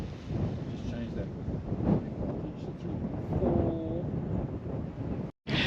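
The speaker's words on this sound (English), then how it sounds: "Oh, bloody wind." Gusty outdoor wind buffets the microphone with a constant low rumble during an Align TB40 RC helicopter flight. A faint motor whine and brief voices sit underneath, and the wind cuts out abruptly near the end.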